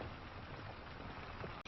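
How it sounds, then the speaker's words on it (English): Rain falling in the farming game Farming Simulator 25: a constant soft hiss of drops throughout, faint and even, with no talk. "that rain has started, so pretty much on time for what the weather forecast was saying"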